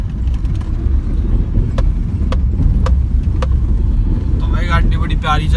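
A 6-7 year old Maruti Suzuki Swift car driving off-road through farm fields, a low, steady engine rumble with wind buffeting and a few light knocks, and a brief voice near the end.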